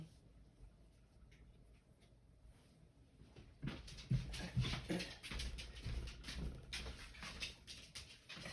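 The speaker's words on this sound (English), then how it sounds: "He's found a piece of paper that's fallen on the floor and he's eating it." A dog chewing a piece of paper envelope on a floor, quiet at first with faint rustles, then louder wet crinkling, tearing and mouthing sounds in irregular bursts, close by.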